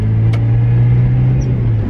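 A Mazda Miata on freshly fitted tires cruises along, its steady low engine drone and road rumble filling the cabin continuously and close, with a brief faint click early on and no talking.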